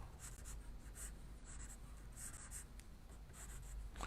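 Pencil sketching perspective lines on paper, a quiet series of scratchy strokes in short bursts over a low steady background hum.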